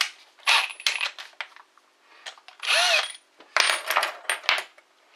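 A power drill fitted with an HSS titanium-coated multipurpose bit boring into material, several short close whirring bursts separated by pauses, with faint rattles between them.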